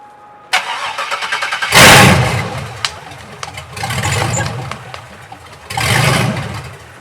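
A 1966 Chevy El Camino with an LS engine swap and stainless headers cranks briefly, then fires up with a loud burst. It settles into a rough idle and is blipped twice more with strong revs, close by.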